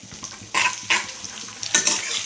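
Onion frying in hot oil with mustard seeds, cumin and green chillies in a kadai bursts into loud sizzles with crackling spurts, plus brief light stirring clinks between the bursts.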